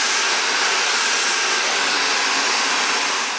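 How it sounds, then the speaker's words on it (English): A hair dryer blow-drying a mustache during a beard trim and styling session, a loud, steady, close airy roar that holds constant with no speech. "styling a mustache, use a smaller brush and kind of blow dry it back"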